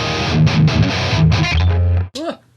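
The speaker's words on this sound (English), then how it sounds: "It sounds like it's adding some distortion." Electric guitar run through an STL AmpHub amp simulator with an Extreme Clean Booster pedal adding drive, giving sustained distorted chords that ring out for about two seconds, then cut off before a brief spoken voice.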